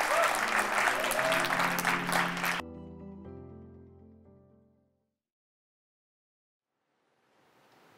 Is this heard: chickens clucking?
no